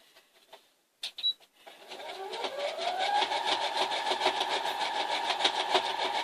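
A sewing machine stitches down the side seam of a child's skirt, starting after a few clicks and settling into a steady, rapid mechanical rattle that runs close and loud to the end.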